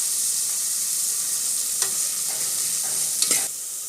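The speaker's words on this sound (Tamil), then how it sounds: "வெங்காயம் நல்லா வதங்க விட்டுடலாம்" Onions and curry leaves sauté in a pan with a soft, steady sizzle. A few light stirring scrapes of a spoon against the pan sound close by.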